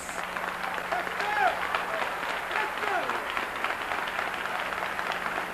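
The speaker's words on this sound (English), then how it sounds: "You don't have to applaud." Applause from an audience at a speech, a steady wash of clapping at moderate loudness with faint voices mixed in.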